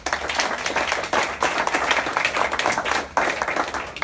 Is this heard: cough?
no